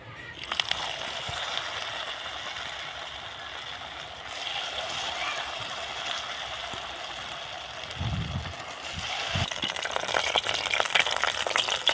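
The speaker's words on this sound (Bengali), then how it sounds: "সাউটটাকে এইভাবে লাল করে ভাজতে হবে একইভাবে এগুলো ভেজে নেব" Steady sizzling hiss of food frying in oil continues for a while, with a few low clunks from the pan near the end.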